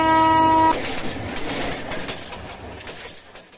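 A train horn blasts loudly for under a second at a Bangladeshi rural station, followed by a rumbling, noisy wash of the arriving train that slowly fades.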